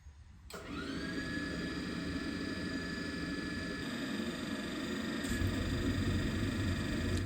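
A heating system burner ignites with a sudden whoosh, then settles into a steady, loud roaring hum with a faint high whine, continuing unchanged.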